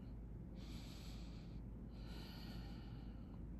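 Slow, deep breaths drawn in and let out through the nose during a face yoga exercise, two long airy passes heard close and quiet, with no talking.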